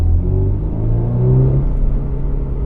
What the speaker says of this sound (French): puis elle fait un petit bruit d'admission